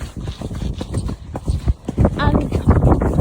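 A ridden horse's hooves clip-clop in a steady walking rhythm, close and fairly loud, with a person talking over the footfalls throughout.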